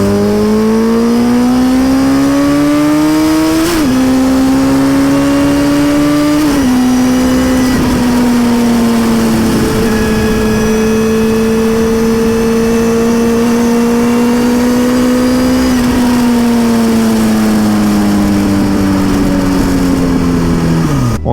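A 1999 Honda CBR900 Fireblade with a MIC exhaust revs loud and close, its inline engine note stepping up in several sharp jumps, holding at high revs, then dropping back toward idle.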